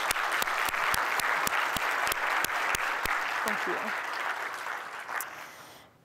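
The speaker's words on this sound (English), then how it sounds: "ask you to join me in clapping for them because it is so much work" A crowd claps for SCA staff in sustained, even applause with sharp individual claps standing out. It tapers off toward the end, and a voice briefly speaks over it.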